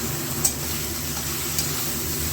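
Banana blossom sizzles with spices in a hot pan, a steady loud frying hiss with a couple of soft scrapes of stirring.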